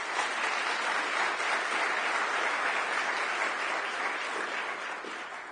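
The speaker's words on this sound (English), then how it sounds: "let's give them another round of applause" A crowd claps loudly and steadily for several seconds, a dense wash of applause that tapers off slightly at the end.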